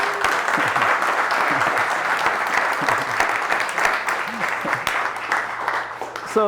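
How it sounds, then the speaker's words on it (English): Workshop audience applauding a guest brought on stage at a business event, sustained clapping from a crowd with a voice speaking over it. "Give him another big round of applause, the man himself."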